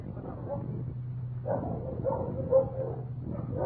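Newly arrived dogs in the Seeing Eye quarantine kennels yip and bark in short, muffled bursts over a steady low hum, a few separate calls spread across a noisy old broadcast recording.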